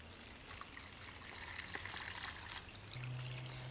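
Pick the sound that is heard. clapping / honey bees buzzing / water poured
water poured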